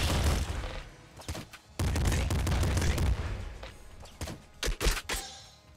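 Shotgun fire in the video game Nuclear Throne: several sharp, loud blasts in quick clusters with booming impacts, one heavy volley then a few scattered shots.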